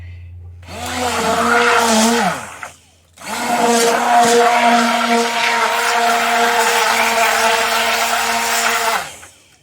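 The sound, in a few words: immersion blender pureeing pumpkin pie filling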